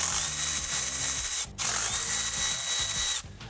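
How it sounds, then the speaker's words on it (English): A power ratchet backs out water pump bolts on the engine block of a 4.6L 1996-2004 Mustang, two close bursts of rapid mechanical clicking with a high whine, separated by a brief pause. "So these 2 bolts here in the engine block, you just back them out a little bit."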